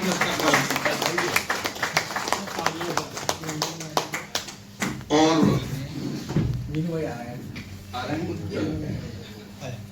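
Applause at a jersey launch event for the Amroha Foundation's Shahwilayat Cup cricket tournament, a burst of dense clapping in the first half that thins out, followed by someone speaking over the sparse remaining claps.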